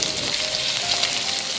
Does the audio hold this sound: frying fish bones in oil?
yes